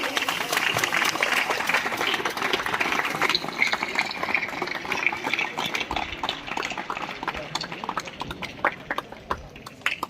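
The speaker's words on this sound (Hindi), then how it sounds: "तालियां रुकनी नहीं चाहिए।" An audience at a fireless cooking competition on Ayurveda and nutrition claps in a dense, continuous patter that thins slightly toward the end, with voices faintly underneath.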